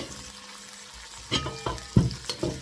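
Plov is stirred in a kazan over a frying sizzle, with a quiet start followed by several sharp, close scraping strokes of the utensil against the pot.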